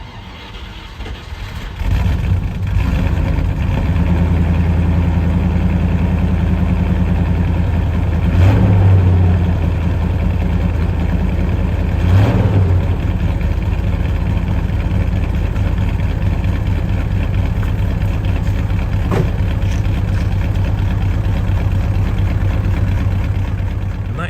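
A V8 Land Rover 90 idles steadily as it warms up on a cold day, a close, continuous low rumble with a couple of brief blips in engine speed.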